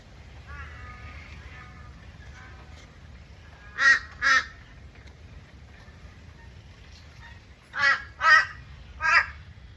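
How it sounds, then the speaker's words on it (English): Crows caw in short loud bursts while taking lorikeet mix outdoors, a pair of harsh calls followed by a later run of three, over quiet background. "They really are like the neighbourhood thugs, those crows, taking the lorikeet mix again."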